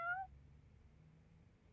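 A cat meows once, briefly and faintly, in the Judgement video game, followed by quiet low background hum.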